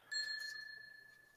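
A single small bell chime signalling that toast is done rings out once and fades slowly, faint and alone.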